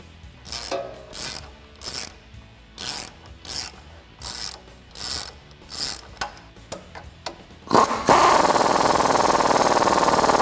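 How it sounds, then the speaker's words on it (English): A ratchet strap is cranked down on a Jeep Wrangler JK track bar, a run of repeated sharp ratcheting clicks in an uneven rhythm, close and loud, ending in a rush of broad noise. "So Ryan's gonna help me out and ratchet this down while I get the bolt in."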